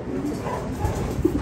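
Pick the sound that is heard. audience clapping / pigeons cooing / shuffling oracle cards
pigeons cooing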